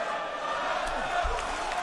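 A dense arena crowd at a PFL light heavyweight fight in Washington, DC chants and roars continuously, a broad, steady wash of many voices with no individual words standing out.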